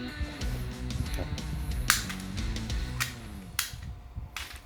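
Two homemade motor-driven launchers fire Beyblades left and right, with sharp snapping clicks and bursts of whirring spin over a busy, clattery background; no talking.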